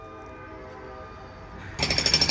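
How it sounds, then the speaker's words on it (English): A train passing out in the countryside, a low distant rumble that swells and then bursts into a loud, rapid rhythmic clatter of wheels near the end. "The fucking train is over there."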